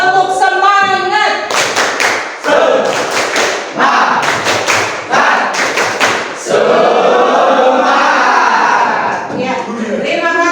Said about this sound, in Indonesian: Ya, tepuk tangan. Sekali lagi, tepuk semangat.